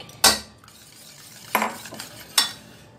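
Milk and custard mixture being stirred in a metal pan for egg custard pudding, with three sharp spoon scrapes and clinks spaced over a few seconds against a quiet background.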